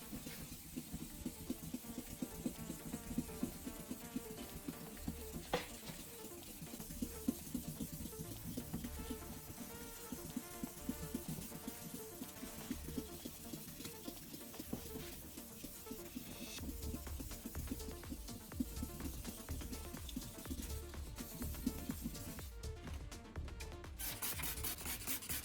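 A hand rubs an old car headlight lens with soap and WD-40 in smooth, gentle strokes, making a continuous close-up rasping friction that holds steady throughout, with no talking.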